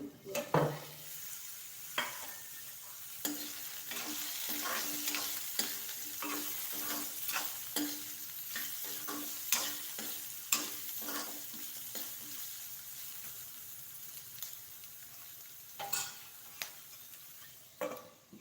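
Food fries steadily in a pan on a home kitchen stove, a constant sizzle broken by repeated scraping and stirring knocks, with a short burst of running water near the start.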